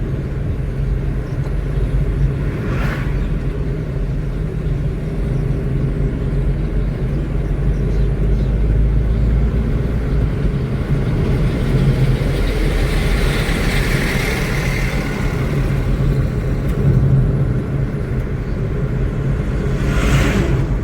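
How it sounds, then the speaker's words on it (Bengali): A lorry rolls past on a road during a road trip from Arambagh toward Digha and Mandarmani, a long steady engine and tyre rumble heard from inside a vehicle, with no talk. "লরি চলে আসছে, কি রে ভাই।"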